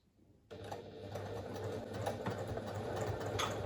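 Domestic sewing machine stitching a fabric pouch along a 1 cm seam, a steady close mechanical whirr with a low hum that starts abruptly and runs continuously while the fabric is turned.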